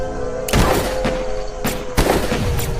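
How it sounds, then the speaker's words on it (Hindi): Gunfire sound effect in a dramatized Hindi horror story, several sharp, loud booming shots at irregular intervals over a steady background bed. "कुछ ही सेकंड में शेखर निशाना साध कर गोली चलाता है"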